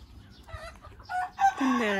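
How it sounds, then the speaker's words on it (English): Chickens on a Serbian village farm at an ethno park cluck and squawk in a short run of calls that grows louder and ends in a drawn-out crowing squawk, nearby over faint outdoor background. "There is chicken here."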